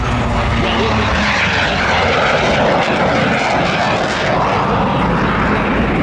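A Yak-110 aerobatic propeller aircraft roars steadily and loudly close by at an airshow, its engine droning without pause throughout.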